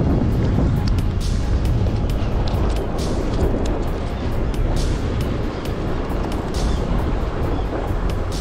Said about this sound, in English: I think the wind is shifting now.